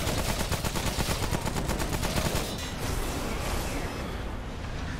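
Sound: small explosions in video game Remnant from the Ashes

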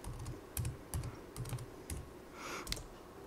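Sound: typing a password on a computer keyboard

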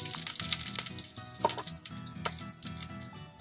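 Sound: lotus seeds (makhana) roasting in ghee

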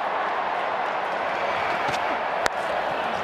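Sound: Adelaide cricket crowd cheering and applauding

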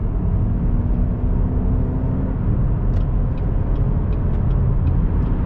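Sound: Cadillac ATS rear differential noise while accelerating

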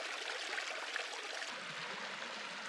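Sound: small creek flowing water

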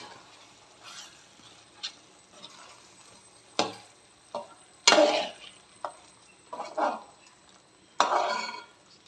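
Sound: stirring chicken masala with chopped leaves in a pan

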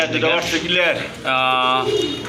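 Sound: pigeons cooing

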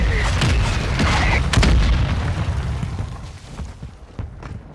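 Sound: mortar strike explosions in the video game Warzone 2

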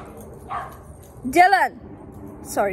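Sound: dog barking

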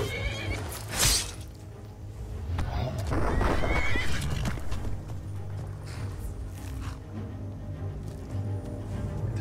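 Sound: horse neighing in a video game

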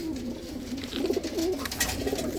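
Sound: pigeons cooing

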